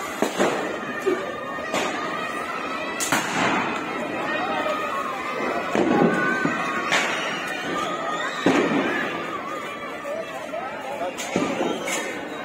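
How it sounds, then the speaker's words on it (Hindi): Firecrackers set off by children in a residential street during Diwali 2022, a series of sharp loud bangs spaced a second or two apart, some near and some farther off, over steady background chatter and street noise. "बच्चे बम जला रहे हैं"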